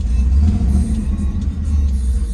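A 1968 Camaro with a carbureted V8 and a Holley 580 CFM four-barrel carburetor idling and revving, a deep, loud, rumbling burble with slight surges in the exhaust note, close by and without talking.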